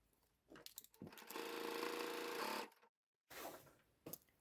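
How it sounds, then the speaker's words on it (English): A sewing machine stitching firm calico rectangles runs in a steady whirring burst of about a second and a half, followed by a short gap and then a second brief run, close by with no voices. "I'm not even pinning these two rectangles together, I'm just sewing them up"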